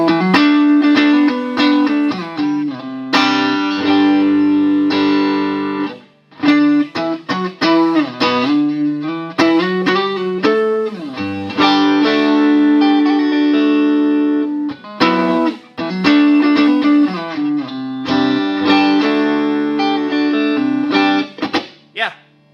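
Clean electric guitar through a Vox AC30 amplifier, played on the neck pickup with the volume all the way up, ringing chords and single notes in phrases separated by short pauses, bright and close.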